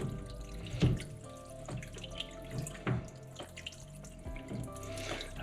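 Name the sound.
water draining from Kenmore Elite front load washer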